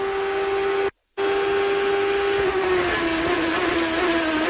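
A Champ Car race car at the Long Beach street circuit holds a loud, steady high engine tone that drops in pitch as it slows under braking, after a brief cut in the sound.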